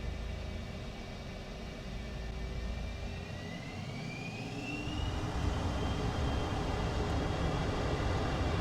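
An F-5E Tiger II's jet engines roar with afterburners lit on the takeoff roll in Microsoft Flight Simulator, a steady loud broadband rush that swells partway through, with a rising whine on top and no talking.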